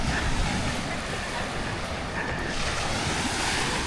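Choppy waves slosh steadily on a clear lake, with gusty wind buffeting the microphone throughout and no clear voices.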